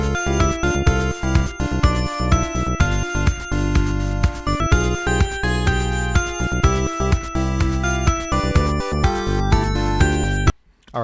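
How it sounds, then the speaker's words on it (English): The Starlight Zone music from the 1991 video game Sonic the Hedgehog 1 plays as dense, loud synthesized chiptune with a steady bouncy beat and bass, then cuts off abruptly at the end. "play Starlight Zone from Sonic the Hedgehog 1, circa 1991."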